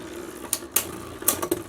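Metal Beyblade Burst Turbo spinning tops clashing in a stadium battle, giving a few sharp clicking impacts over a light whirring hum.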